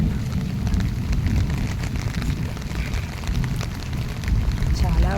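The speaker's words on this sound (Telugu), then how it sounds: "చాలా వర్షం పడుతుంది." Heavy rain pours down steadily in a region prone to thunderstorms and tornado alerts, a dense, continuous wash of noise that stays loud throughout, with a faint voice briefly surfacing near the end.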